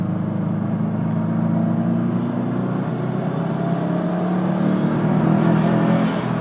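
A Subaru WRX accelerates hard in third gear, a loud continuous engine drone heard from inside the car, rising gradually in pitch over several seconds with no talking.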